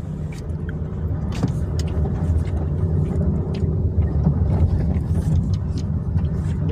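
A car drives along a rainy road near Toranmal, its engine and road rumble steady and close throughout, with faint voices in the background.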